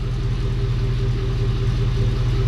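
A 1987 Chevy truck with an LS engine swap idles with a steady, low rumble, close and even, with a deep throbbing pulse through a single Flowmaster exhaust, two pipes into one, and no voices.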